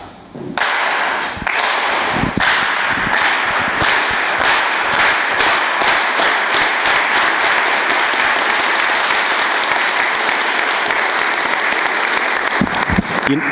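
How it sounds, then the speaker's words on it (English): An audience performs the Farm Workers Clap at a university keynote address, a slow run of single unison claps that steadily speeds up into a dense, continuous burst of applause, loud and close throughout. "I always like doing the Farm Workers Clap with people for the first time"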